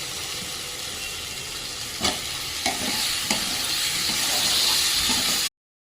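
Cut potato pieces drop into a spiced curry frying in a pan, giving a steady close sizzle and hiss with a few sharp stirring knocks and splashes partway through.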